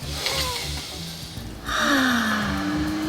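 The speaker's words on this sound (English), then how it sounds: "So that's why we take a deep breath." A person takes one long, audible deep breath in, a steady airy intake close to the listener with soft room tone and no talk.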